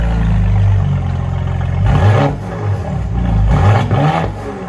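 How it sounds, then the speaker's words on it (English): Straight-piped family SUV engine with a turbo revving up in close, loud bursts, with whirring turbo spool and a rough exhaust note rising and falling over a steady idle. "Now you can hear the turbo."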